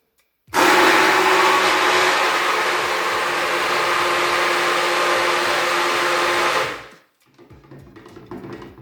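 A hand blender whirs steadily while emulsifying a soap mixture, starting abruptly and running loud and close for about six seconds before winding down, followed by faint handling noise.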